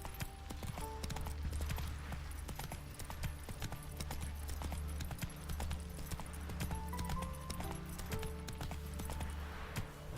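Geralt's horse Roach gallops in The Witcher 3, rapid hoofbeats running continuously under a layered game soundtrack with sustained tones, fairly loud throughout.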